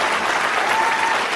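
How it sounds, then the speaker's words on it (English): A studio audience on a British improv comedy panel show gives a round of applause, a dense, steady wash of many hands clapping at full volume throughout, with no talk over it. "A good round of applause there."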